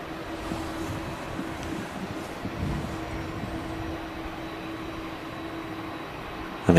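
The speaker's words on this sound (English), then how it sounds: "second EasyJet arrival. About to touch down on 23 right." An EasyJet airliner arriving to land on runway 23 right at Manchester Airport, a low, steady jet roar at moderate distance with a faint broadband hiss throughout.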